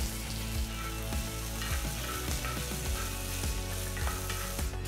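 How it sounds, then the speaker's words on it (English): A large, finely chopped onion frying in hot oil in a non-stick pan while Tawa Paneer is prepared, giving a dense, steady sizzle with occasional scraping stirs and no speech. "Once the oil is hot, add 1 large onion,"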